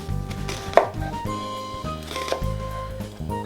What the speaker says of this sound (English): Make some small incisions in the middle of the onion like so.